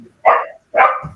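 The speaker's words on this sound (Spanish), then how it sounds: "Haz callar tus perros, no se escucha." During a phone call, two sharp, close barks from a dog, separated by a brief silence.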